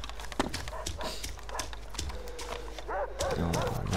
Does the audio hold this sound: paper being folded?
no